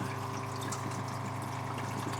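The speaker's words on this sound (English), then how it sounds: "pump works. Lovely clean water coming out." A small water pump on a 4x4 Mercedes camper hums steadily while water runs and trickles continuously from a tap, a faint, even wash of flowing liquid with no voices.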